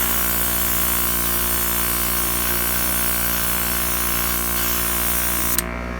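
Black paint sprays from an airbrush in a steady, continuous hiss down the back of a bluegill crankbait, close and uninterrupted alongside a constant mechanical hum, cutting off abruptly just before the end.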